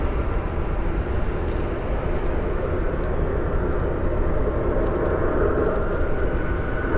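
A Delta Airbus A319 lands at night at Dallas/Fort Worth with spoilers up and thrust reversers out, a steady loud broadband engine roar that holds without pause throughout.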